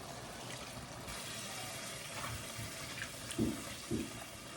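Beef broth pours into a pot of chili soup in a soft, continuous liquid trickle, with a couple of brief louder splashes near the end. No one speaks.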